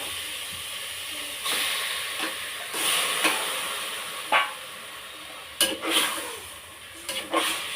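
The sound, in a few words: chicken frying and sizzling in a pan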